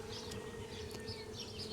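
Honey bees from a swarm hum in a dense, steady buzz close by, fanning, many insects droning together without pause.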